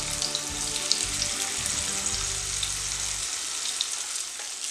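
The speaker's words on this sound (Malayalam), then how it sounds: "ഇതിനി എല്ലാ സൈഡാവണ വരെ ഞാൻ തിരിച്ചും മരിച്ചും ഇട്ട് ഇത് മൊരിച്ചെടുക്കാൻ പോകും" Chicken pieces fry steadily in a pan for a chicken bread pakora snack, a dense continuous sizzle with a low rumbling hum that drops away near the end, close and fairly loud with no voices.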